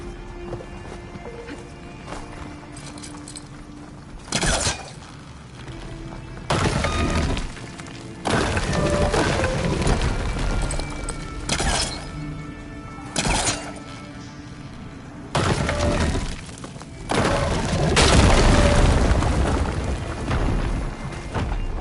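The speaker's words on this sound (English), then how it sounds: "Shooting that with the right ammo should detonate it" Shots and detonations in the Horizon Forbidden West video game: several loud broadband bursts, some sharp and brief, others sustained rumbling blasts, recur irregularly over a busy game soundscape.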